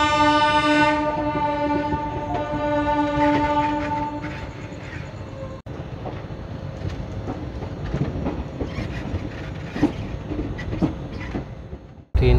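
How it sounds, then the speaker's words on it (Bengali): The Amravati Express 18047 sounds a long, tonal horn blast at first, then runs on with steady rumbling and rhythmic clickety-clack of wheels over rail joints, heard from on board. "ট্রেন সাঁতরাগাছি স্টেশন পেরিয়ে এখন দুরন্ত গতিতে ছুটছে"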